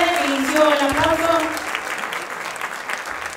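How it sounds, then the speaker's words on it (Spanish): An audience at a comedy show at César Manrique Cultural bursts into applause, steady clapping from the crowd as a voice speaks over the start, then fading to a lighter patter. "Pueden aplaudir, pueden aplaudir."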